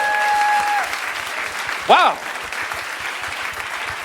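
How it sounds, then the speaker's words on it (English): A convention panel audience at a fan event breaks into continuous applause, with a brief tone at the start and a single voice exclaiming once partway through the clapping. "give yourselves a round of applause"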